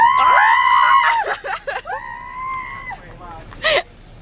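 A person lets out loud, bleating screams imitating a goat, several wavering cries in a row with short pauses between them.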